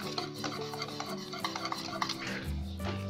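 Banana flour batter is stirred in a pot as it thickens, a close scraping and rubbing with rhythmic utensil strokes and small knocks against the pot, without talk.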